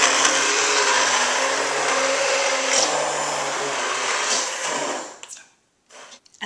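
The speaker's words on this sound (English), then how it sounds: "Now I'm going to start to cream this using my blender." A blender whirs steadily at full power, creaming a cheesy cauliflower soup, with a constant dense roar for about five seconds before stopping, leaving brief clatter and silence.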